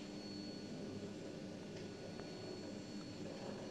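The motor at the Færder lighthouse in 1989 runs with a steady, continuous mechanical drone and faint whine, with a couple of brief clicks and no talking.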